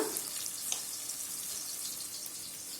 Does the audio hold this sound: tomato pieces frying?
yes